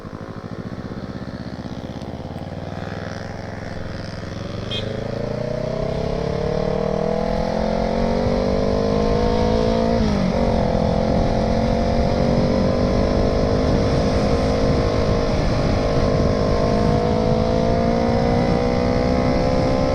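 A Kawasaki ER6n motorcycle pulls away under light throttle, its engine note rising steadily in pitch and loudness over the first few seconds and then holding a close, continuous drone.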